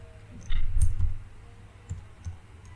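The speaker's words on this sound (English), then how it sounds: "let me just type again." Sparse, soft clicks from typing on a computer keyboard, a few quick keystrokes in a cluster followed by isolated taps, faint against a quiet room.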